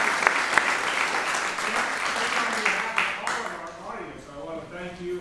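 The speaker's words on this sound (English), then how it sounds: "Well, a big round of applause." Audience applause at a flute masterclass, full clapping from the crowd that thins and fades out as a voice begins speaking over the tail.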